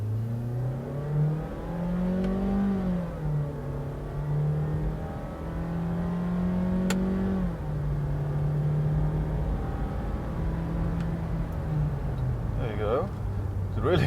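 A Mazda CX-3 in manual sport mode accelerates through paddle-shifted gears, engine note climbing then dropping at each upshift in repeated cycles, steady and close from inside the cabin, with a brief click near the end.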